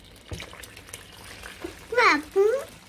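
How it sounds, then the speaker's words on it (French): Lukewarm water poured in a kitchen while making waffles and doughnuts, a short splashing pour with a rising gurgle near the end, with a voice speaking over it. "Là, je vais mettre de l'eau tiède maintenant."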